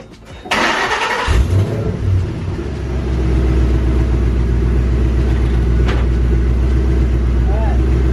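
A cammed Ford Mustang GT fitted with a Procharger D-1sc supercharger cranks and fires up, then settles into a loud, choppy, lumpy idle that stays steady and close, with a brief burst partway through.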